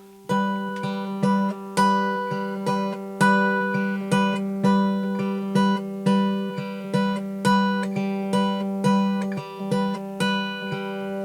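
Plucked guitar strings ring in a steady repeating pattern, notes picked one after another over a sustained droning string, close and clear.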